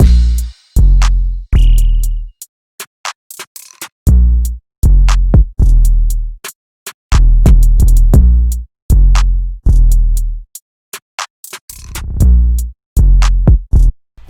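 Full hip-hop drum pattern in a bouncy trap style, with booming 808 bass, punchy kicks, claps, snares and rapid triplet hi-hats, looping steadily and loud for the whole stretch with no voices.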